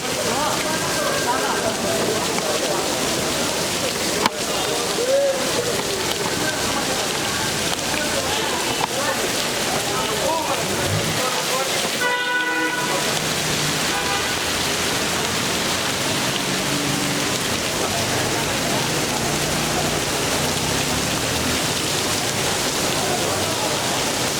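Steady rain hisses across an outdoor market at Gulistan Stadium on a wet afternoon, a dense continuous wash of drops with scattered faint background voices and market clatter.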